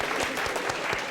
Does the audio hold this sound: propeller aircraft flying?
no